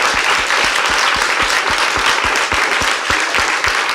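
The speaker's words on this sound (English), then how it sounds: "can I just ask you to give a big round of applause to your panel tonight?" An audience applauds a panel at the close of an evening talk in a museum, a dense, sustained roar of many hands clapping at an even level throughout.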